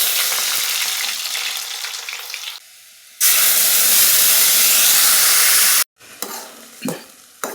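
Crushed garlic cloves sizzle and fry in hot oil while making tomato thokku, a loud, steady hiss broken by two short gaps and a few softer stirring sounds near the end.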